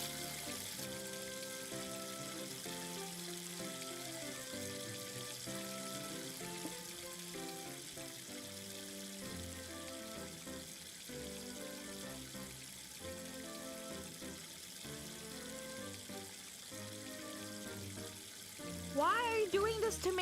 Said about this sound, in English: Wow, how loud is the water sound?